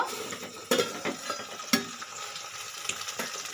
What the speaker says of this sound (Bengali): ভেন্ডিটা পুরো ভাজা হয়ে গেছে